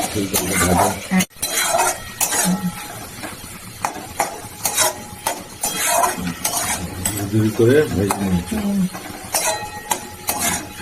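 A metal spatula scrapes and clatters rhythmically against a pan, scrambling eggs into crumbly bits over a steady sizzle, with a voice talking intermittently in the background.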